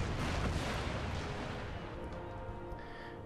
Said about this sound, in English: So the artillery battle is going good for me